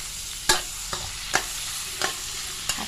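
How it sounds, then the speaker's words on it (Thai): Minced pork and garlic being stir-fried in a pan, a constant sizzle broken by several sharp spatula scrapes and knocks at irregular intervals, close and clear, with no speech. "ผัดไปเรื่อยๆให้หมูสุกค่ะ"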